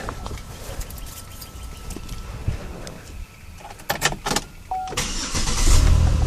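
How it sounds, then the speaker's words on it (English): A car engine is started as part of a fuel-injector cleaning. Scattered clicks and handling noises come first, then the engine catches with a loud, close, rumbling surge and keeps running. "Now I'm going to start the car, and I'm going to let it run until it stalls."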